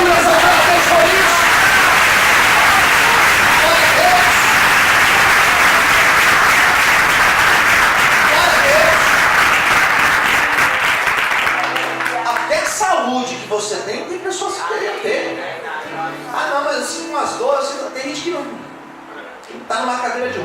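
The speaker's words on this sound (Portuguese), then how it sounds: "Você pode aplaudir essa vez por isso." Church congregation breaks into loud, dense applause that carries on for about ten seconds and then falls away, after which a preacher's voice goes on with faint room noise.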